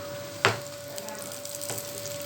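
Poha sweet cutlets fry in a pan with a steady soft sizzle, a sharp burst of crackling near the start and a smaller flare later, over a faint constant hum.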